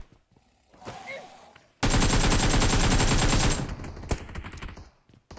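PUBG Mobile gunfire: a sustained rapid automatic burst of close, loud shots lasting about two seconds, preceded and followed by quieter scattered game sounds and single distant reports.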